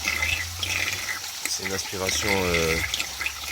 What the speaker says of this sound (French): Cette remontée elle remonte ici, ça projette l'eau sur les parois et que les sédiments retombent au fond